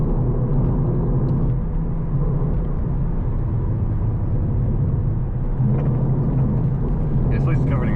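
A 2023 Cadillac CT4-V driving over a gravel-covered road, with a loud, constant low rumble of engine and tires from inside the car and people talking over it.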